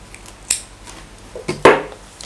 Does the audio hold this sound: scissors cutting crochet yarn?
yes